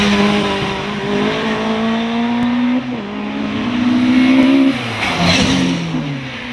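An 1800cc Mark I Ford Escort races up a wooded hillclimb course, its engine loud and close, revving hard through rising gears with brief lifts and shifts between pulls.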